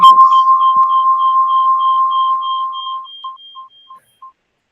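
A loud, steady telephone tone holds for a few seconds, then breaks into short, evenly spaced beeps that fade and stop.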